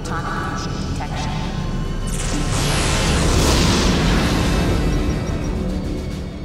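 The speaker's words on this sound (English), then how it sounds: "What the hell are they shooting at us for?" Spaceship weapon warning-shot blast from Men in Black: a deep rumbling boom with a crackling burst that swells loudly over several seconds and then slowly fades.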